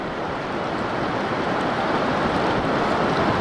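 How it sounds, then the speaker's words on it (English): Ocean surf at Neptune State Park on the Oregon coast, a steady, full broadband wash of waves with wind noise and no talk. "Waves tend to overwhelm me here."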